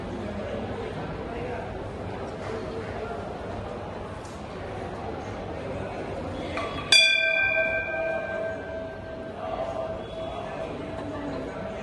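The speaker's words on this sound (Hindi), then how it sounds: "इसके हाथ से घंटी बजवा दे।" A temple bell at a Shiv mandir is struck once and rings out clearly, its tone slowly fading over several seconds above a busy crowd murmur and chatter.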